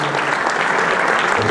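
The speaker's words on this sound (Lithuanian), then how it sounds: "Aplodismentai Kauno Žalgiriui ir Aurelijui Žukauskui." A large crowd applauds Kaunas Žalgiris and Aurelijus Žukauskas at a 2009 Lithuanian basketball league closing ceremony, a dense, loud, continuous wash of clapping from start to finish.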